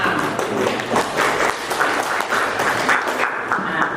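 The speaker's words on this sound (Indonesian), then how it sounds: "berikan tepuk tangan untuk kelompok A" Classroom applause for a student group after its presentation, with a steady patter of clapping hands held at an even level throughout, fairly close and without talk.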